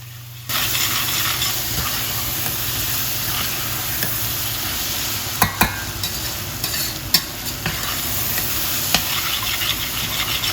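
Meat fries with caramelized onions for a vindaloo, giving a loud, continuous close-up sizzle and hiss with irregular clinks and scrapes of a utensil stirring in the pan. No voices are heard.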